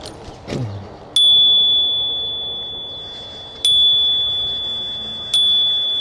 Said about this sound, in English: we're gonna have to hit them with the bell